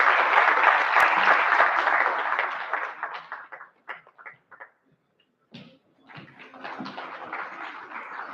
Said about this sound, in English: May we all please welcome Sir with a resounding round of applause.